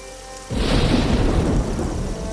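A heavy downpour swells in suddenly with a deep, rolling thunder rumble, loud and enveloping, and keeps on as a dense hiss of rain.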